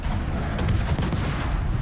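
Naval gunfire from warships in a video game, a dense rumbling barrage of overlapping booms and cracks, loud and continuous with several sharper blasts standing out.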